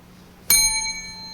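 A gong is struck once at a conference lightning talk, a sharp metallic hit that rings on with bright, sustained overtones and slowly fades.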